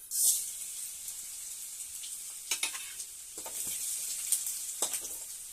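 Mustard seeds, cumin and other tempering spices crackle and splutter in hot oil, a constant close hiss broken by sharp pops and spits, with occasional stirring scrapes.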